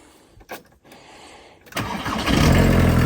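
A Volkswagen Caddy Mk1 barn find cranks with a few short starter bursts, then catches and settles into a steady, rumbling idle that grows louder and continues close by.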